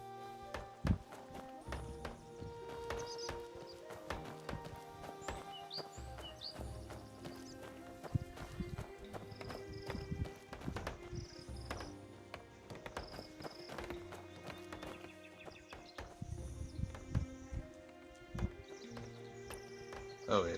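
Horse hooves clip-clop steadily with an occasional whinny in the open-world game Where Winds Meet, set against layered game music and ambient sounds for the whole stretch.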